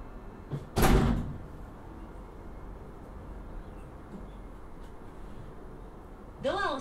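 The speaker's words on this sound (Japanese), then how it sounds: "ドアを閉めます。" Inside a Meitetsu 1700 series limited express train with Toshiba IGBT equipment, the doors shut with a single dull thud over a steady cabin hum, and a short rising chime follows near the end.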